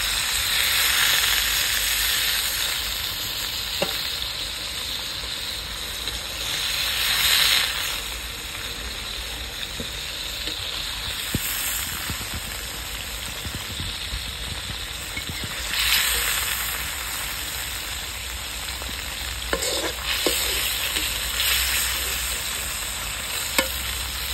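Chicken sizzles and fries in a pan while village-style chicken kosha is cooked, a steady loud hiss with occasional stirring scrapes and swells of steam, no talking.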